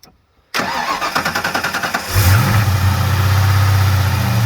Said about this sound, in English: We're going to fire it up cold and see what we can figure out and get this thing running